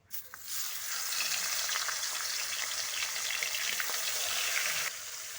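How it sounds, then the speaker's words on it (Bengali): Rohu fish heads frying in hot mustard oil: a loud, steady sizzle and crackle that starts as they go into the pan and continues without talk, dropping slightly near the end. "তেল গরম হয়ে গেছে, এবার মাছের মাথাগুলো আমি তেলের মধ্যে দিয়ে দিচ্ছি।"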